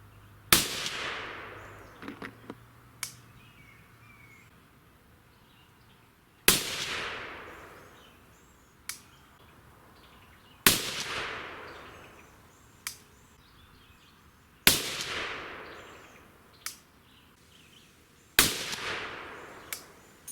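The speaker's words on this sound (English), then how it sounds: "We're going to send 5 shots down." Five loud, sharp rifle shots fired at a target 100 yards away, each a separate crack followed by a fading echo and spaced several seconds apart, with faint clicks of handling between them and no voices.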